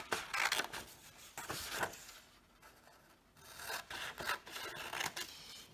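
Scissors cut through paper while a paper flower is made, giving bursts of close rasping, rubbing snips in irregular clusters with a brief quiet gap midway.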